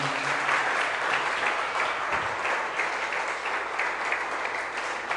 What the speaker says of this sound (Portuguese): Você pode dar um aplauso poderoso a Jesus nessa manhã?